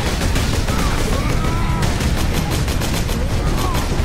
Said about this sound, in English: Just shooting orcs.